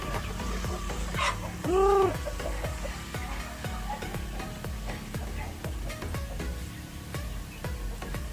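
Native chickens clucking and calling on a farm at feeding time, with repeated rhythmic clucks throughout and a brief louder call near the start, fairly close.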